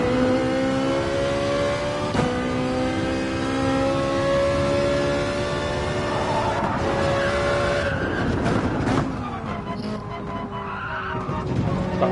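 A Ferrari GR4 race car in a video game runs at full throttle, its engine climbing in pitch through gear changes, followed by a rougher stretch with tire squeal and skidding near the end.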